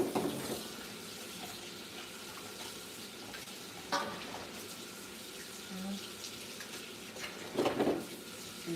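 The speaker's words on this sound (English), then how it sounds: "I'm going to wash it with cold water" Cold tap water runs steadily over dry fish being washed by hand in a kitchen, a continuous splashing stream with occasional louder sloshes and clatters as the fish is handled.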